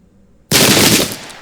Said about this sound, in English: Nice shooting, boys.